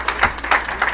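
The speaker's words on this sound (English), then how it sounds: "let's give them another big round of applause" Brief burst of convention audience applause at the Democratic National Convention, a dense crowd clapping at moderate volume for about a second with no voices on top.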